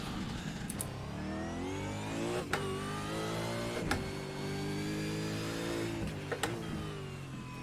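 A V8 Supercar in the iRacing sim revs hard and steadily, its engine note climbing through long rising sweeps with brief gear-change dips, loud and close throughout with no voices.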